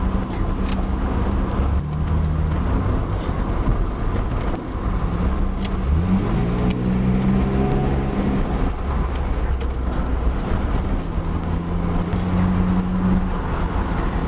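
A BMW E30 with a ZF 4HP22 automatic gearbox accelerates from inside the car, its engine note rising and then dropping at each smooth gear change, several shifts over a steady road rumble.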